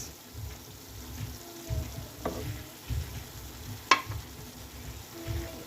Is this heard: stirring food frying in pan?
yes